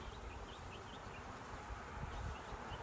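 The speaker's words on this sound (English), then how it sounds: "there are a lot of bees right now out and about" A steady, faint swarm-like buzzing of many honey bees outdoors during a honey harvest, continuous and low, with occasional brief chirps in the background.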